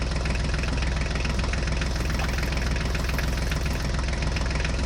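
A tractor engine runs steadily and loudly throughout, a dense low rumble with a faint knocking pulse and no voices, close by.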